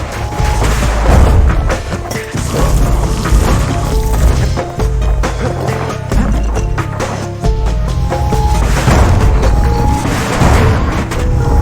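Heavy booming guns fire repeatedly in the video game Bastion, a series of loud thuds and impacts over a continuous musical backdrop, close and sustained with no speech.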